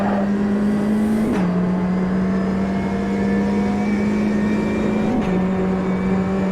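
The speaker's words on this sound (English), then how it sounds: "Accelerate out of Nickerbrook." Race car engine in the Automobilista 2 racing game accelerating out of a corner, a loud steady drone that climbs in pitch, drops at each gear change around 1.3 and 5.2 seconds, then climbs again, alone with no talk.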